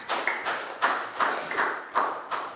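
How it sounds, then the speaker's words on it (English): A class of Year 4 children clapping during a health lesson, about six loose, rhythmic bursts of hand claps, close and fairly loud, without talking. "a big round of applause, guys"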